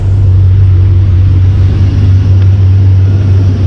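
A 2001 Chevy Silverado V8 pickup with a failing fuel pump and near-zero fuel pressure idles after starting, giving a steady, loud, close low rumble that never revs up.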